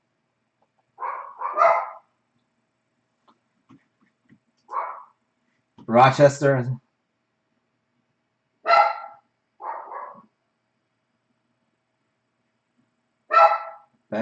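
Several dogs bark indoors in short separated bursts, some single barks and some doubled, fairly close and loud with quiet gaps between, and someone speaks briefly amid them.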